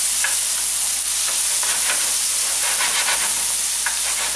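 Tomatoes frying in a pan for chicken gravy, a loud, steady hissing sizzle with faint stirring taps, close up and with no voices.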